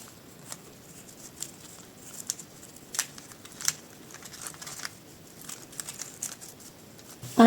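Scissors snip through printed fabric for a summer blouse, a series of quiet, irregular crisp cuts and crinkles spaced about half a second apart, faint and close up, with no talking.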